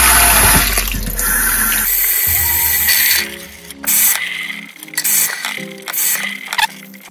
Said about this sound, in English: run your rice through water a couple times.